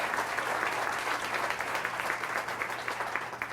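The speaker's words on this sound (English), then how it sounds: "warm round of applause" Audience in a lecture hall gives a warm, steady round of applause, many hands clapping evenly at moderate volume for a few seconds with no voices over it.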